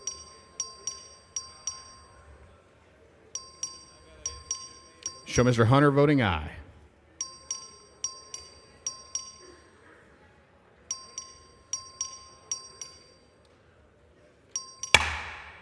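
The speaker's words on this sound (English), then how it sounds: "The clerk will ring the bell." A bell rings in repeated bright ding patterns in a House chamber during a record vote on a bill. The rings come in steady bursts across the clip, with a short spoken announcement heard once between them.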